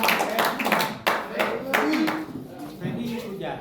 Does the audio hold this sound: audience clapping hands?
yes